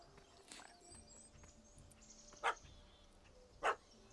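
A dog in The Witcher 3 barks twice, two sharp, loud, isolated barks about a second apart over quiet in-game ambience with faint clatter.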